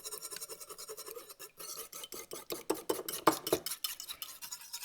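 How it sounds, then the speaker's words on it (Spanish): Vanilla is being mixed into bread dough ingredients, a near, rhythmic scraping and stirring of a utensil against a bowl that grows louder and busier before stopping. "Y lo vamos a mezclar perfectamente bien"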